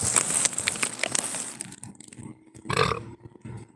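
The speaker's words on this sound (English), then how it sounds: "I'm sorry for belching." A man belches once around the middle, a short rough burst standing out against a noisy background of rustling and handling sounds.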